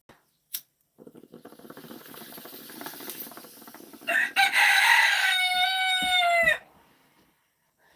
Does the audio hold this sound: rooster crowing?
yes